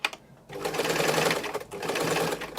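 Sewing machine stitching a seam on trousers, a short burst followed by a steady close whir of forward stitching, a brief pause, then another run of back-and-forth stitching.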